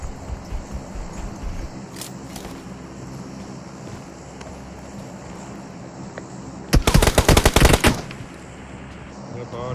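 Loud bursts of rapid automatic gunfire in a battle royale video game, a dense volley lasting about a second, set against steady wind-like ambient noise with a few scattered single shots earlier.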